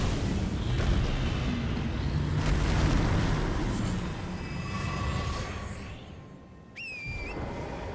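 A fire attack ignites an enemy in Elden Ring, a loud, sustained roaring rush of flame with rumbling, explosive texture that swells and slowly fades, ending with a brief high metallic ring.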